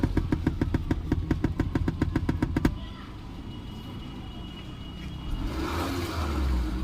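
Tata Zest car engine being revved up close, a fast run of regular throbbing pulses for a few seconds that then drops to a smoother, steady running hum.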